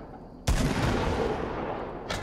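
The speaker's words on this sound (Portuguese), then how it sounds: "Caralho, tá voando granada." In Fortnite Season 1, a sudden loud grenade blast erupts after a quiet moment, with gunfire crackling and rumbling through the reverberant aftermath, followed by another sharp burst at the end.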